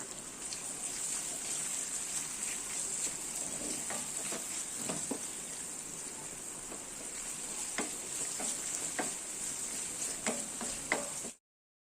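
Sliced onions frying in hot oil until golden, giving a steady, close crackling sizzle with scattered pops throughout, then cutting off abruptly.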